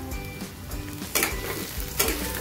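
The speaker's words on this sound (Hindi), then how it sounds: "यहाँ पे मेरे भत्ते को तड़का लग गया है" Steady crackling sizzle of spices tempering in hot oil for an Indian dish, with a couple of louder bursts of spitting as more goes into the pan.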